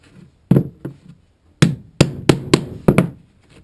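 A handmade brass hammer taps a metal punch to make holes in a tomahawk sheath: about eight sharp, close strikes, some single and some in quick pairs, with short gaps between them.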